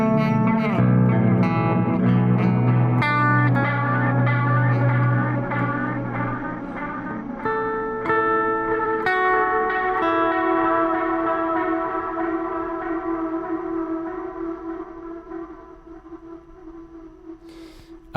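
A Meris LVX delay pedal set to cassette modulation adds static and crinkle to echoing bell-like guitar tones, which repeat, warble and slowly fade with no one speaking.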